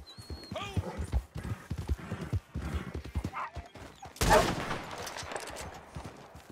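Clopping horse hooves and an agitated neigh from a nervous horse in Red Dead Redemption 2 Online, mixed with game sound effects, including a sudden loud burst like gunfire, under a talking voice.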